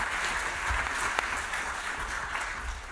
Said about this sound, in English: can I ask for a round of applause for what was a fantastic talk and some great questions?